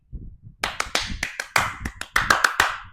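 A person demonstrates hand clapping during a Quranic lesson on prayer, producing a quick series of sharp, close claps in an uneven rhythm with no talking.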